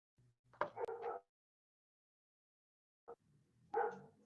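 A dog barks in the background during an online class, giving a few short bursts near the start and another cluster toward the end, with quiet gaps between them.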